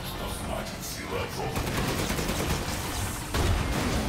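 Dense, rapid bursts of gunfire in the video game Resident Evil Village rattle continuously, with a heavier burst near the end, all fairly loud and close.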